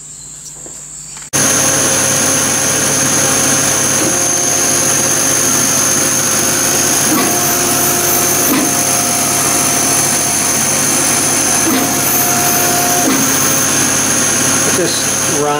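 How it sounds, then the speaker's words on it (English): A laser cutter runs on a wood veneer display panel, switching on abruptly into a loud, steady high-pitched whine with fan hum and a continuous droning tone that persists unbroken. "Then we're going to laser cut right through."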